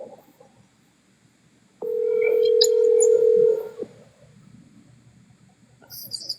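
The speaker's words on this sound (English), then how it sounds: "I'm about to call your phone real quick, man." A phone line gives a single steady tone lasting about two seconds while a call is being placed, followed by faint clicks and quiet background noise with no talking.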